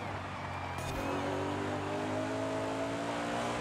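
An Ascari KZ1R rear-wheel-drive race car in Forza Horizon 5 hums steadily through a sharp turn, its engine drone quiet and even with a faint brief whine near the start.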